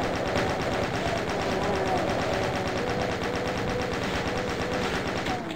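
Chaingunner enemies in the DOS game Doom II fire machine guns, several at once, a loud, continuous rapid rattle of shots that holds steady throughout.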